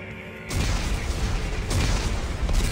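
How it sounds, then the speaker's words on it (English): Explosives go off in the Dead Space 3 game, a sudden loud blast after a quiet hum that becomes a sustained roaring rumble and swells again toward the end. "Computer, arm explosives. And detonate."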